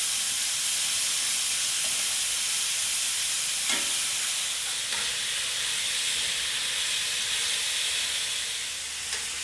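Wagyu flank steak pieces fry in hot oil with a loud, dense, continuous sizzle and hiss, a few faint scraping stirs breaking through, and no talking.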